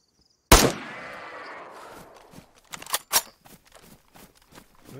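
A single sharp SKS rifle shot in the video game DayZ cracks loud and close, followed by a fading tail and scattered light footsteps or clatter.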